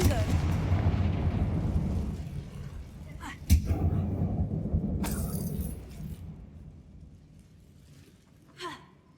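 Hogwarts Legacy combat with the Confringo fire spell: a sharp explosive blast at mid-clip over rumbling spell effects, with smaller crackling bursts and a final pop, amid game sounds.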